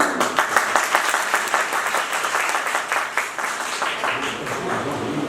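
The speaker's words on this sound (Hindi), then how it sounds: "मैं चाहता हूं कि सभी लोग इटावा के नाम पर जोरदार तालियां बजाएं" Loud, sustained applause from a seminar audience in Etawah, many hands clapping densely and steadily for about five seconds with no one speaking over it.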